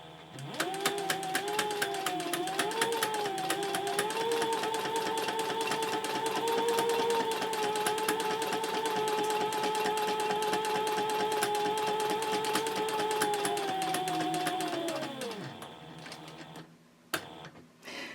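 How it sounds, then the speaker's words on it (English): Sewing machine stitching around the zipper box of a Bellezza handbag at a 3.0 stitch length: a fast even whir of needle strokes for about fifteen seconds, winding down with a couple of faint clicks after. "I'm stitching around the box with a stitch length of"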